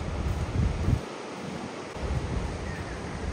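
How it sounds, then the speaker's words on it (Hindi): Ocean waves roll and wash at Vagator Beach in Goa, heard from a height as a broad, continuous roar with gusts of wind buffeting the microphone, rising and easing over a few seconds. "मैं इतनी ऊंचाई पर हूँ पर फिर भी मुझे लहरों की तेज़ आवाज़ सुनाई दे रही है।"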